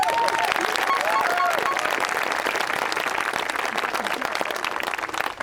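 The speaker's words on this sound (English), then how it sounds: "Can we get a round of applause for this school?" An audience at a school graduation ceremony claps and applauds steadily throughout, a dense wash of clapping that starts full and tapers slightly at the end.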